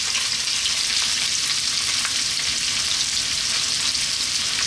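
Ginger and onion frying over high heat in hot sunflower oil in a wok, a loud, dense, unbroken sizzle heard up close and steady throughout, with no voices.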